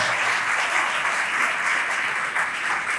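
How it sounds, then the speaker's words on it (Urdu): A large congregation at a 2023 youth festival Holy Mass breaks into loud, sustained applause, a dense and even wash of clapping that fills the whole stretch with no voice rising above it. "میں آپ سب کو زوردار تالیوں کی گونج میں خوش آمدید کہتا ہوں۔"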